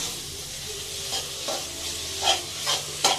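Chicken fries and sizzles in a pan with a steady hiss while a utensil stirs it, giving several distinct scraping strokes that grow louder toward the end, close by and with no talking.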